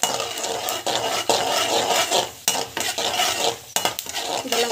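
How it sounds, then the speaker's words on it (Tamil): Chana dal and nuts sautéed in a pan, a spoon scraping and clattering against the metal in quick repeated strokes over a constant sizzle, loud and close. "நல்லா வந்து வதக்கி எடுத்துக்கோங்க."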